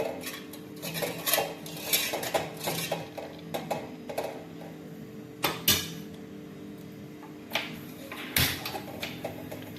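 A metal spoon clinks and scrapes around inside a pot of banana stem rasam, irregular clatters and knocks, close by with no talking.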